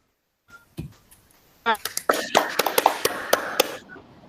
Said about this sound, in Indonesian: tepuk tangan untuk Yuda